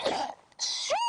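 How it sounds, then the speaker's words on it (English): A single loud human sneeze close to the microphone with a sharp burst and a rising voiced tail, heard during an evening safari game drive with lions nearby. "I got another sneeze coming on"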